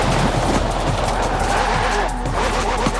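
Racing engine of a McLaren P1 GTR in the Forza Horizon 4 video game, a steady loud roar with rising and falling pitch, hints of tire squeal and a car passing by, heard alone without talk.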